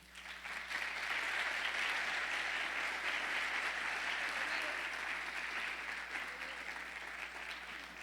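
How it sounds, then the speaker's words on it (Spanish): Audience applause fills a church general meeting, steady and dense for about eight seconds, moderately loud with no voices standing out. "Les damos un fuerte aplauso."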